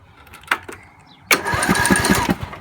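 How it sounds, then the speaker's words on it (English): A lawn tractor engine with disconnected safeties cranks over after a couple of faint clicks, turning loudly and rhythmically from close by. "All I'm wanting to do is get it to crank over, like all the safeties are disconnected so it won't start"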